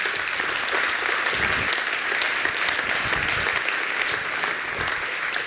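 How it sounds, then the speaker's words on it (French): A conference audience at the launch of a university entrepreneurship and innovation hub applauds steadily, with dense, sustained clapping filling the room at an even level. "Vous pouvez l'applaudir."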